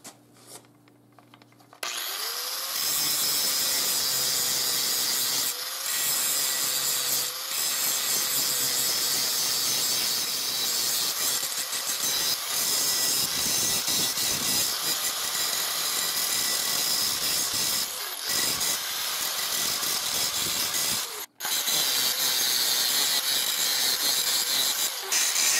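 An angle grinder shapes the profile of a steel knife blank with a loud, continuous high-pitched grinding whine. It runs nearly unbroken for over twenty seconds, with one brief drop partway through.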